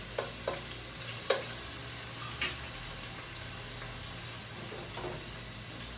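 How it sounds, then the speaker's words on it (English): Grease sizzles steadily in a pan while frying, with a constant crackling hiss broken by several distinct sharp pops scattered throughout. "The grease is popping."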